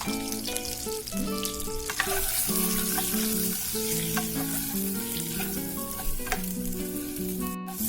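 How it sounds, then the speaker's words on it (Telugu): A pan of food fried with turmeric and salt for a mushroom egg biryani gives a continuous loud sizzle with stirring scrapes, while steady tonal music plays over it and no one speaks. "కొద్దిగా పసుపు, కొద్దిగా సాల్ట్ వేసుకొని ఫ్రై చేసుకున్నాము"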